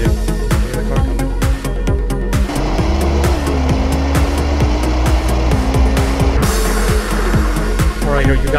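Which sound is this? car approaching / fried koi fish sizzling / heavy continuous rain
car approaching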